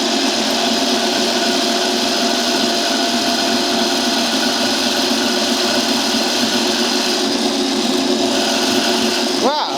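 A Kenwood Cooking Chef 7-quart stand mixer running its citrus juicer attachment, a steady, loud motor hum with a whirring mechanical buzz that holds constant throughout, a brief change just at the end.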